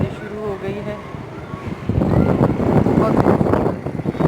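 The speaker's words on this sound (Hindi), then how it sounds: "हवा चल रही है" Wind blows hard over the microphone in Karachi during a light drizzle, gusting into a loud rough roar halfway through, with a voice talking over the start.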